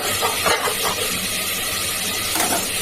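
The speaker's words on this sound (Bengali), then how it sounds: "অল্প তেলে কিন্তু ভাজছি" Food fries in a small amount of oil while it is stirred, giving a close, steady sizzle and hiss broken by short scraping stirs, with no talking.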